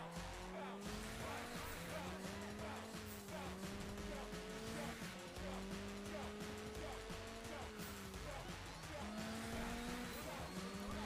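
Car engines from the racing game Juiced 2: Hot Import Nights, a continuous loud race-car drone rising and shifting through gears in repeated cycles, with tire squeal and skidding layered throughout.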